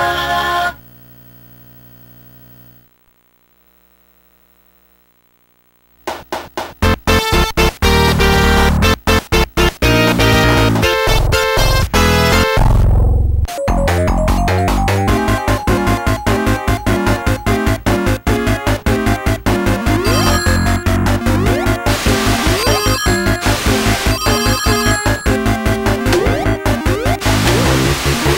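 Sonic the Hedgehog game audio played through the small built-in speaker of a Hyperkin GenMobile handheld Sega Genesis: a short tone, a few seconds of silence, then dense, continuous chiptune music and effects, loud and somewhat harsh throughout.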